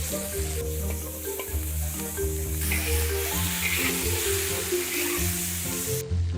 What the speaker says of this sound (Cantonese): 倒入魚肉翻炒，